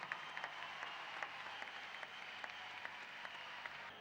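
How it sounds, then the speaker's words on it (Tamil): A crowd at a Tamil cinema live music show applauds a drummer with steady, faint clapping heard from a distance, with no voices over it. "எங்கே அந்த ட்ரம்ஸ் வாத்திய கலைஞருக்கு மீண்டும் உங்கள் வாழ்த்து கரகோஷம்."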